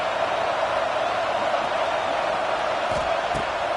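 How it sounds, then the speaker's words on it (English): A home stadium crowd in a college football video game roars loudly and steadily through the whole stretch, a dense wall of cheering at an Oklahoma at Alabama matchup. "how nice is it to have the home crowd going absolutely bananas?"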